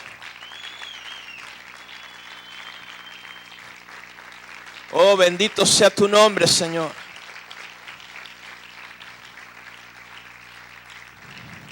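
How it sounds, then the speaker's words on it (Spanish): A church congregation bursts into loud applause for about two seconds, a dense swell of clapping that rises and cuts off, framed by a preacher's amplified voice before and after. "Póngase sobre sus pies y aplauda fuerte al Señor en esta hora."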